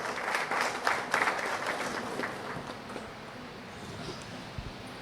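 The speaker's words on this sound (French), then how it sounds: "je vous demande de l'applaudir fortement" Audience applause at a conference on peace and unity in Guinea, a steady patter of many hands clapping that is strongest at the start and gradually thins out over the seconds, heard at moderate distance in a hall.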